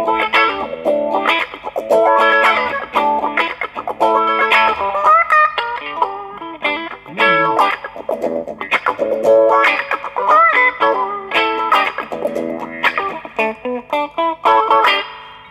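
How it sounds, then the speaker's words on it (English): Funk guitar played through distortion and effects, with choppy rhythmic strums and short bluesy lines in a steady groove, clear and up close with no talking. "That's your first lesson in playing funk guitar."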